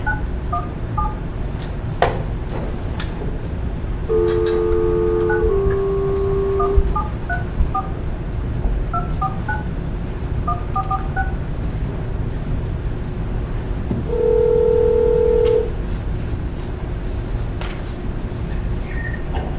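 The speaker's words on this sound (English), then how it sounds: "So I will call RJ at the moment" Telephone keypad tones dial out a call over a speakerphone setup in a meeting room, a scattered series of short beeps followed by longer steady tones, faint against a low background hum.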